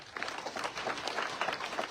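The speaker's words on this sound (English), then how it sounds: "Can you clap for that?" A school audience at a high school thanksgiving service claps together, a steady dense patter of many hands sustained for about two seconds, moderately distant and even in level.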